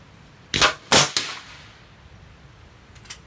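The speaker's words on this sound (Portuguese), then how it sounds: "Dois disparos lá." Two sharp pellet gun shots crack close together near the start, followed by a faint ticking snap and then quiet.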